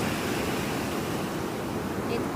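Ocean surf at a foggy beach produces a steady broadband wash with some wind over the microphone, continuous and fairly close, with no distinct breaks between waves.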